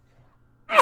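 A single short sneeze bursts out at the very end after near silence.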